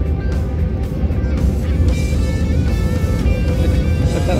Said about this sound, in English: The engines will go on really loud.